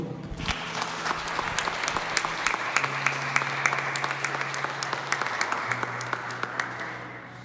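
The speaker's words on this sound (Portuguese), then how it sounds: "e a igreja aplauda o Senhor" A church congregation applauds during a Portuguese-language worship service, a steady wash of many hands clapping that holds for several seconds, with a faint sustained organ or keyboard tone underneath.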